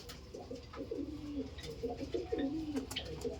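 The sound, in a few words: Madrasi pigeons cooing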